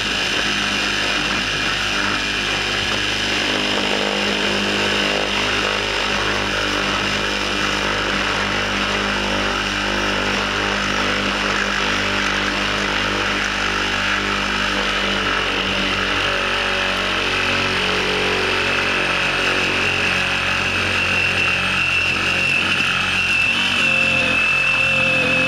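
A bead making machine cutting runs as a steady droning whine for the whole stretch, loud and continuous with no talk.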